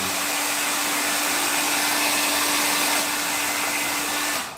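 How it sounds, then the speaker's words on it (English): A hair dryer blows with a constant, loud whooshing hum that holds steady for several seconds before cutting off abruptly. "when you use hair dryer, right?"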